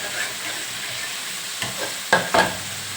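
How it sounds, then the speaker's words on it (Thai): Soft tofu frying in oil in a pan gives a steady, close sizzle, with a few louder scraping stir clicks near the end. "เราก็จะมาทอดเต้าหู้ก่อนให้มันแข็งตัวสักหน่อยนึงไม่ต้องทอดให้มันแข็งมากนะคะ"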